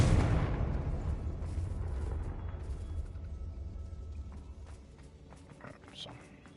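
A Confringo blasting spell goes off inside a mine in Hogwarts Legacy with a loud, booming explosion, then a long rumbling decay that fades over several seconds, with footsteps and small clatters after it.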